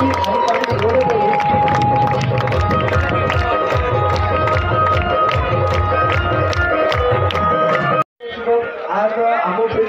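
A crowd at a rural village cricket tournament final cheers and claps for the man of the series, a dense, loud continuous roar of applause and voices that drops out briefly near the end before resuming.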